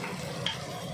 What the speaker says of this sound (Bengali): এটা একটুখানি ভাজা ভাজা হোক